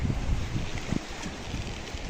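Steady 15 to 20 knot wind rushes past while sailing, with a low rumbling buffet and a hiss of moving water, continuous and fairly loud throughout.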